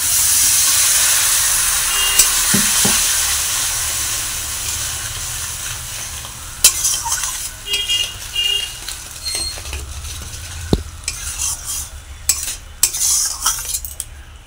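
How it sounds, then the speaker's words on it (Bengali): Water poured onto spice paste frying in a pan for a Bengali katla fish head, pui shak and pumpkin ghonto sets off a loud steamy hiss that fades into lighter sizzling, with scattered scrapes and clinks of a stirring spoon. "এবার অল্প পরিমাণে আমি একটু জল অ্যাড করবো।"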